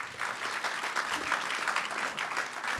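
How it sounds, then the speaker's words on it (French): An audience at a French community event, Réunir ma ville 2, applauds on request, a fairly soft but sustained patter of many hands, with a faint murmur of voices mixed in. "On peut applaudir ça?"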